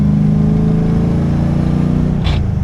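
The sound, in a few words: gear grind shifting into fourth, LS-swapped Nissan 300ZX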